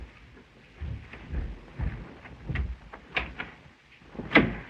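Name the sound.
door sound effect in radio drama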